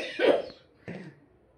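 Someone coughs twice up close, a harsh burst followed by a shorter second one, after drinking a drink spiked with chilli powder during a food dare challenge.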